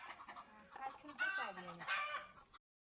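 Chickens cluck close by in a busy, overlapping run of calls, with a longer crowing cry rising partway through.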